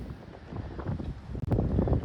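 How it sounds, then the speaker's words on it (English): Gusty wind buffets the microphone in low, uneven rumbles, rising and falling over a couple of seconds. "It's very windy"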